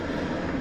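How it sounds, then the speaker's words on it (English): A helicopter flies overhead, a steady broadband rotor and engine rumble that fills the short moment evenly, moderately loud and with no voices over it. "sorry for the helicopter flying over"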